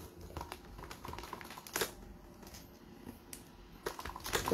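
Fast clicking keystrokes on a computer keyboard in a quiet room, irregular taps and a few heavier key strikes, close and fairly faint.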